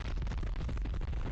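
A bomb explodes in The X-Files video game with a dense, roaring burst of crackling noise that fills the whole short moment at steady loudness, with no voices.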